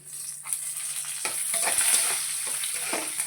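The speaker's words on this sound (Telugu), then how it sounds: "మినపప్పు, పచ్చెనపప్పు. ఓకే, ఓకే అండి, వేగుతూ ఉంది" Urad dal, chana dal and cashews frying in a pan of hot oil, a steady close sizzle with scattered crackles and stirring scrapes, no voices.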